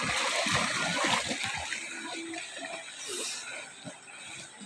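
Someone swims through water, a continuous rushing splash and churn with a slight swell midway, moderately loud and without clear talk.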